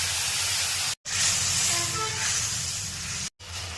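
Spice paste with onion and chilli frying in oil for a masoor dal bora curry gives a loud, steady, close sizzling hiss, broken by two brief cuts into silence.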